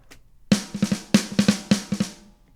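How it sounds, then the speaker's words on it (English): Snare drum hits processed through a Sonnox Oxford Drum Gate plugin, about ten sharp, punchy strikes in a quick uneven pattern with tight cut-off decays and silence before the first hit, loud and dry, no voices. "Now we'll get some snares."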